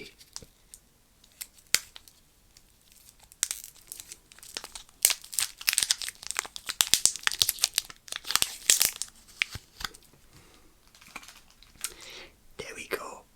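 Close-up crinkling and tearing of the tightly sealed plastic wrapper on a Ritter Sport chocolate bar, with sharp bursts of rustling and ripping between quieter handling in an ASMR-style setting.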